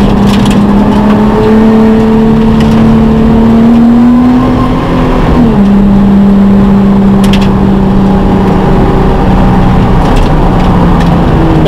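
A Nissan GT-R races a lap on Bondurant West track, its engine droning loud and close with rising and falling pitch through gear changes and corners, no voices heard.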